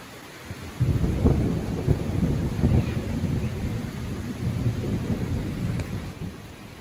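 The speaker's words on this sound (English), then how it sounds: "It wasn't long before the storms reached us." Thunderstorm reaching a small one-room cabin in the woods, with a deep rolling rumble of thunder over steady rain, loud and close and lasting several seconds with no talk.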